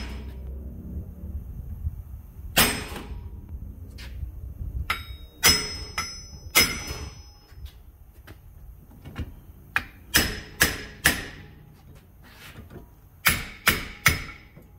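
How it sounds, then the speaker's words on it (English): Heavy metallic hammer blows strike a seized rear hub on a raised car during a bearing replacement, landing in irregular bursts, some single and some in quick clusters of two or three, with quiet pauses in between. "So I'm going to have to let the car down a little bit and do this, so I get a better swing with the hammer"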